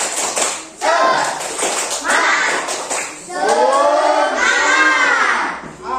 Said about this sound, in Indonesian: Boleh tepuk semangat dulu? Tepuk semangat.